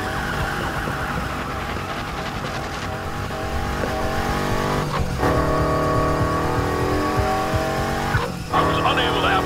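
A car engine roars nonstop through a police chase in the racing video game Need for Speed Heat, with wailing sirens and tire skids layered loudly over it.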